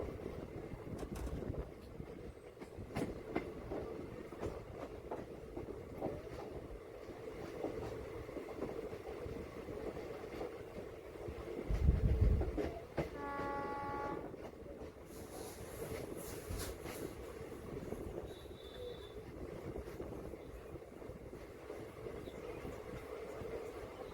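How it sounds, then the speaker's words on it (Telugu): The Gunupur fast passenger train runs at a steady pace along a single track in Odisha, a continuous rumble of wheels and rails with a brief louder thump and a short tonal horn-like sound partway through. "సో మన ట్రైన్ అయితే నెమ్మది రైట్ సైడ్ టర్నింగ్ తీసుకుంటుంది."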